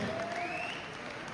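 Audience at a seminar breaks into a burst of applause, a dense wash of many hands clapping at once, steady and moderately loud for about a second, with a faint tonal whine above it.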